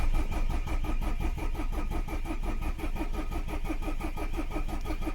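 A Peugeot 306 diesel turbo cranks over and over without catching. The starter makes a rapid, even, rhythmic churning that is loud, close and unbroken, with no talk.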